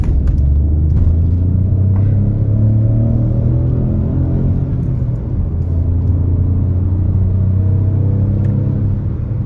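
A 2021 Peugeot 2008 GT Line with a 1.2 engine accelerates uphill, giving a loud, continuous low engine rumble and drone that holds steady throughout, with no talking.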